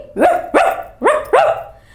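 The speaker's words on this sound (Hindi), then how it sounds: "भौ भौ भौ भौ कुत्ता भौंका, भौंकिए भौंकिए।" A dog gives four sharp, close barks in quick succession, evenly spaced with short pauses between them, with no talking around them.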